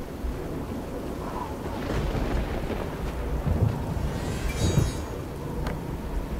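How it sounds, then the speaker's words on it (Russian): A thunderstorm in the video game TES 4: Oblivion – Shivering Isles gives deep, rolling thunder rumbles over a steady hiss of rain, swelling in the middle and easing off at the end. "Я надеюсь, будет слышно из этого грома, шума дождевого."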